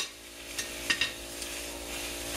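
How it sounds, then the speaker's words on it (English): Food sizzles in a skillet with a soft, steady hiss, broken by a couple of light clinks as pieces are set down, close by and without talk. "All I'm doing is putting these in the skillet"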